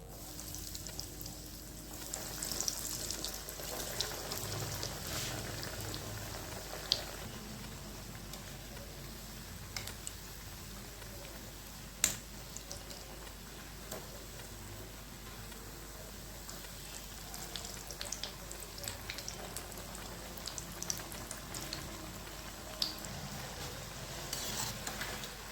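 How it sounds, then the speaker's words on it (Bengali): Vegetable chops deep frying in oil, a faint, steady crackling sizzle that runs throughout with occasional sharper pops and clicks, no voices. "আমি আর একবার ভেজে দেখাচ্ছি।"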